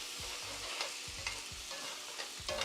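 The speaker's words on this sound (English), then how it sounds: "So now we can add our garlic and onion and saute that." Garlic and onion sauté in a pan, giving a low, steady sizzle with repeated soft knocks and scrapes of stirring, close and quiet.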